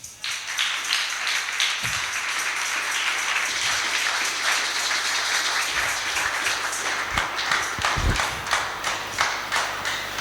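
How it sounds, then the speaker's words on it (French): A church congregation breaks into sustained applause during a worship service, dense clapping filling the room from start to finish with a few louder thumps and scattered cheers mixed in. "Sous vos acclamations."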